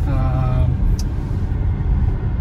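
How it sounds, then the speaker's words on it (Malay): Steady low road rumble and tyre hum inside a moving 2022 Volvo XC60 T8 plug-in hybrid, with a faint whooshing of air conditioning in the background; a brief voice is heard at the start. "tahap kebisingan yang kita boleh dengar hanya bunyi tayar dan bunyi aircon saja"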